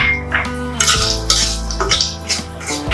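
Almonds dropped into hot leftover oil in a pan while cooking pulao, with sizzling and metallic stirring and scraping of a utensil against the pan, close and steady, mixed with light clinks.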